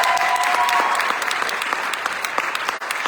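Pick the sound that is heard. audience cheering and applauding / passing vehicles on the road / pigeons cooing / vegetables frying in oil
audience cheering and applauding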